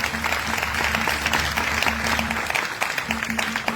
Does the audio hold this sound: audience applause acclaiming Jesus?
yes